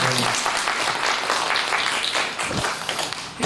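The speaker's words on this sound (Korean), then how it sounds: "네, 박수 한번 하시겠습니다." A church congregation at a year-end Sunday worship service claps together in a dense, steady burst of applause that fills the room, fading slightly near the end, with some voices mixed in.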